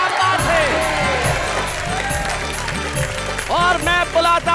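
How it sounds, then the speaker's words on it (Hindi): Loud applause and cheering from a crowd at a Hindi comedy show, a thick wash of clapping with whoops and music playing underneath, swelling again near the end. "आइए हम उस कार्यक्रम में बजाते हैं तालियां"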